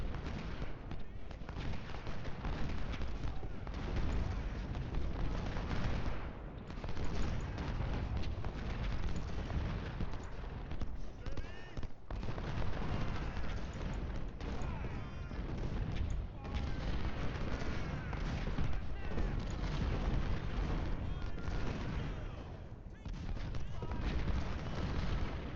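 Massed musket volleys and artillery fire from a battle in the Ultimate General: Civil War strategy game, a dense continuous crackle and rumble of gunfire running loud throughout with a voice faintly beneath.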